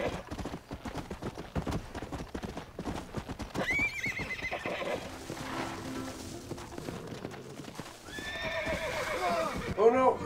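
A horse in the Red Dead Redemption video game whinnies loudly several times over rapid clip-clop hoofbeats, with people talking excitedly throughout.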